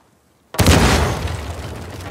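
A loud dynamite blast in Uncharted 4 bursts suddenly out of near silence, then rumbles and crackles as it slowly decays.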